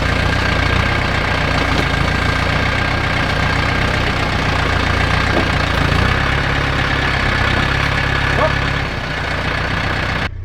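A heavy tractor engine chugs loudly and steadily at close range while pushing a 1969 Ford dump truck, a constant, deep mechanical rumble.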